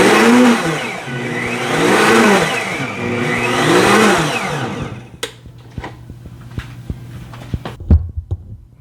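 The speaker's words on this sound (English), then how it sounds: "add a little bit of soap and water and then blend it again and it'll get your blades clean" A blender holding soap and water whirs loudly for about five seconds with a pulsing, sloshing rhythm, then cuts off, leaving scattered clicks and small knocks.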